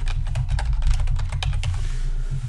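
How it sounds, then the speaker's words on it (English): Rapid keystrokes on a computer keyboard while text is typed into chart software, a steady run of close, crisp clicks lasting the whole stretch with no talking. "Type in your text."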